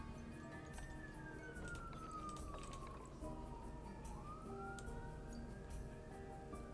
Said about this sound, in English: I don't know if you guys can hear that siren, but I can.